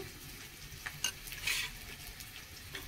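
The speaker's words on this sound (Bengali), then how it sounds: "খুব সামান্য একটু জল দিচ্ছি, দিয়ে একটা সুন্দর করে গোলা তৈরি করে নেব" A thick batter of ground rice and red lentil paste with a little water being stirred and mixed, giving soft, close, wet scraping and sloshing, with no talk.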